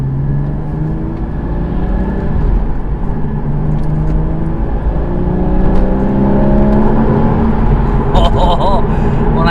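A 2013 Porsche Boxster accelerating from inside the cabin, its engine note climbing steadily in pitch as revs build past mid-range, loud and sustained with a brief change near the end.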